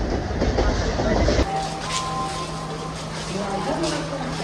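A crowded passenger train runs in Sri Lanka with a loud, steady rumble and rattle, a strong low roar at first and then a continuous hum, with voices talking in the carriage.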